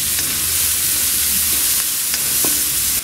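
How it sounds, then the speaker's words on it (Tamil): A chopped medium-sized onion sautés with garlic in a hot pan for prawn and chicken fried rice, a loud, steady close sizzle broken by a few light stirring scrapes. "வெங்காயம் வந்து கோல்டன் ப்ரௌன் ஆகணுன்ற அவசியம்லாம் இல்லை, லைட்டாக வதங்கினா போதும்."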